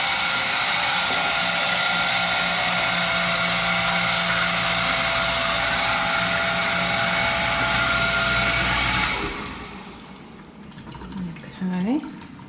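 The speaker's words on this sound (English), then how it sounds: "That's the other sump pump. It's kicking on over here." A basement sump pump kicks on nearby, a steady loud mechanical whir with watery churning that runs continuously and then cuts off, leaving quieter room noise with a brief sound near the end.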